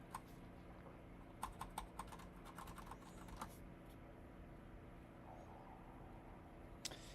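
Quiet, close typing on a Kinesis Advantage 360 keyboard, clusters of soft key clicks in uneven bursts with pauses between, no talking.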